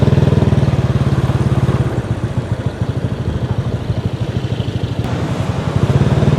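A vehicle engine at a Thai fresh market revs loudly and close, a throbbing pulsing idle that rises and falls through repeated blips without pause.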